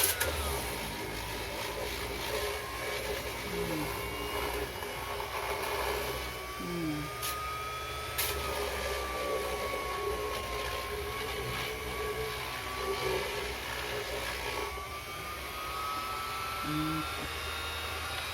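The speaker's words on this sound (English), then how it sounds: "it's my first time using a Random Orbital Sander" A TOLSEN 280W random orbital sander runs at a steady, fairly quiet whir with a constant buzzing hum and slight pitch wavering throughout.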